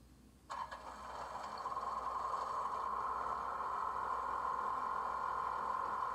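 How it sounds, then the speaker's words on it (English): Generator hum from an HO scale Athearn Genesis UP CA-8 caboose with DCC sound, a steady faint mechanical drone that starts abruptly after half a second and holds evenly, alone with no talk. "F9 is the generator."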